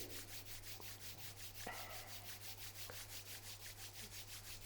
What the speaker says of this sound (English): Now both hands, both palm together. Rub your both palm